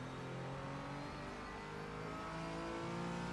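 A Porsche race car engine in the iRacing sim, held at steady high revs with a droning, buzzy tone that stays constant and fairly quiet throughout.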